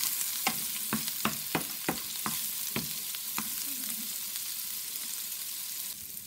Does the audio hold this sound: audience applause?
no